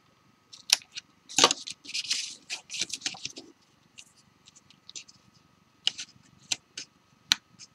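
Scissors snip through craft pattern paper for a card, giving a quiet, close string of crisp cuts and small rustles in short, irregular bursts separated by pauses.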